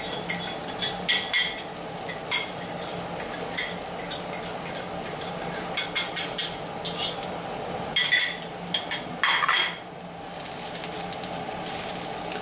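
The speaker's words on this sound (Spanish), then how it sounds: "Simplemente las doro y ahora le añado los huevos." Eggs go into a frying pan of browned spinach, and a steady close sizzle builds with occasional clinks and scrapes of a utensil against the pan. No one speaks.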